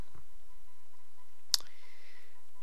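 A single sharp computer mouse click sounds close and clear at a quiet desk during account setup, a short crisp tick with a faint steady hum around it and no voices.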